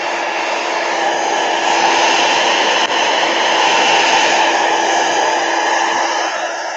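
A blow dryer runs steadily and loudly throughout, a continuous airy roar drying a wet wooden palette craft project, with no talking over it.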